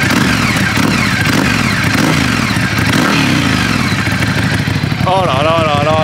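Ducati Scrambler with a desmodromic engine and chromed exhaust headers, running close and loud with a throbbing, clattery rumble and rising revs, a voice audible over it.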